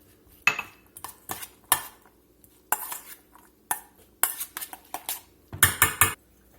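A utensil mixes homemade pico de gallo in a bowl with loud, close scraping and clattering strokes in irregular bursts, separated by short pauses.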